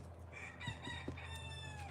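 On a farm, beside a chicken coop, a rooster gives one short, faint crow with a few clucks, and no one talks.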